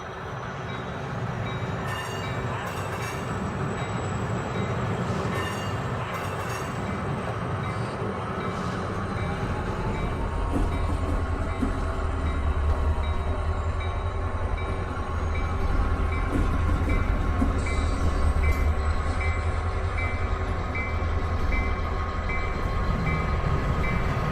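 A model HO-scale freight train pulled by four diesel locomotives up a steep grade rumbles past steadily with a low, continuous drone and faint rail clatter, growing heavier partway through; no voices.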